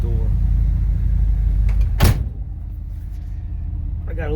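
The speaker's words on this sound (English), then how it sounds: "Let me shut this door." Door of a 1973 Dodge D100 pickup slamming shut once, a sharp solid thud midway, with engine-like rumble and a voice before and faint cabin sounds after.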